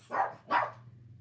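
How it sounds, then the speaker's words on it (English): A pet dog barks twice in quick succession, close by and fairly loud, with a low steady hum underneath. "my dog's gonna bark"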